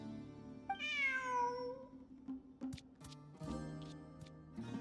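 A cat in Genshin Impact gives one clear, drawn-out meow near the start, followed by light ticks and short game sounds in an otherwise quiet scene.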